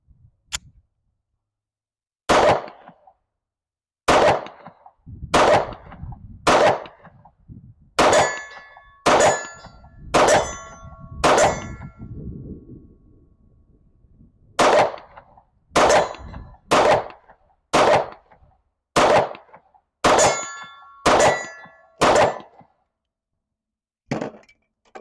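A Staccato pistol fires a full magazine at an outdoor range, sharp cracks each followed by a ringing clang from steel targets, about twenty shots in uneven bursts with short pauses, loud and close.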